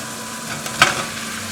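Sauce with cinnamon bubbles and sizzles steadily in a pan, a close, continuous frying hiss with one brief louder pop.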